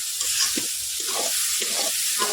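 Fennel seeds with a paste of mustard, green chili and onion frying lightly in hot oil, a steady close sizzle with soft stirring scrapes at a regular pace.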